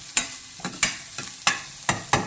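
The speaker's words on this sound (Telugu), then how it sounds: "ఫస్ట్ వెల్లుల్లి ముక్కలు వేస్తున్నా" Garlic pieces frying in a hot pan for a vegetable soup. Sharp stirring strokes rise at an even pace, about five or six crisp scrapes over a soft sizzle, close and fairly loud.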